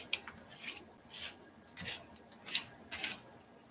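A palette knife scrapes across an art project, giving a series of soft rasping strokes roughly every half second, close and quiet with no talk.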